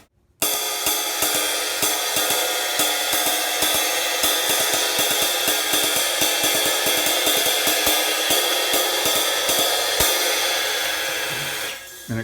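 A crash cymbal in a 40s Zildjian style with a small bell and heavy hammering on top, struck repeatedly into a loud, continuous shimmering wash that sustains for about twelve seconds before cutting off.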